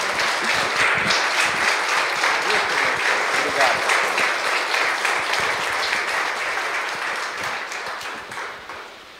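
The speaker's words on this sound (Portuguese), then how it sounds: "Vamos receber o irmão aplaudindo Jesus bem forte." A church congregation applauds loudly for Jesus while welcoming a brother to speak, a dense continuous round of clapping that holds steady and then slowly tapers near the end.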